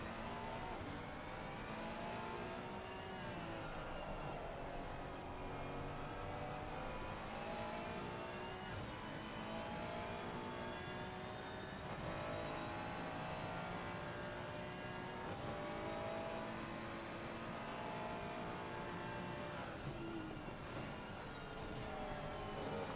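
GT3 cars, including a Ferrari and a Porsche, racing at Snetterton in a sim racing game, with a steady loud drone of engines rising and falling through gear changes, continuous and without pause.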